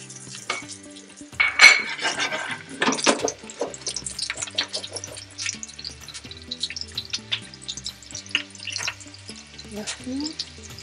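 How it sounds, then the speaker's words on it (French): Chopped onions go into hot oil in a pot for traditional African fried rice, bringing a sizzle alongside clattering utensils, stirring and pot knocks, with occasional scraping and water sounds in a home kitchen. "on verse les oignons."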